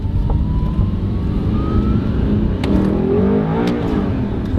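An Audi R8 supercar accelerates on the road, its engine a loud, steady roar from inside the car with rising tone and no talk.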